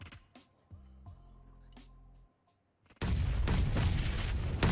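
A grenade blast in the mobile battle royale game PUBG Mobile, heard as a sudden loud, broad roar that swells after a brief quiet and continues as dense rumbling gunfire and explosion noise.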